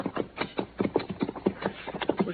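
Horse hooves clip-clopping steadily along a narrow country trail toward a cliff, an even rhythmic walking pace of muffled thuds, close and moderately loud with a slightly lo-fi, old-recording quality.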